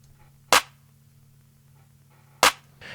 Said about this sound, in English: now in this chorus section, we have a clap snare combination